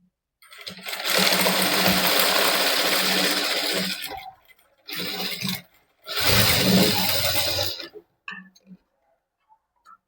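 Sewing machine stitching a half-inch seam along the reverse fold of a princess-cut back-open garment, running in long steady bursts that stop briefly between passes, close and loud with no talking.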